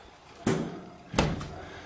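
Door of a 1967 VW bus under restoration closing twice, two sharp metallic thuds a moment apart, close by and with no talk.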